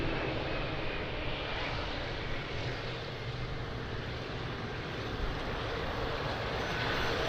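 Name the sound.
LATAM Boeing 777 airliner taking off at Lisbon Airport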